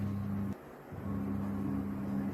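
A mixie grinds coconut and sugar with a steady motor hum that cuts off briefly, then restarts and runs on evenly in a short pulse pattern.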